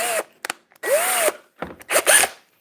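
A power drill bores through parts for a keyboard build in three separate bursts, each spinning up with a whining pitch that rises and falls, loud and close with short pauses between runs.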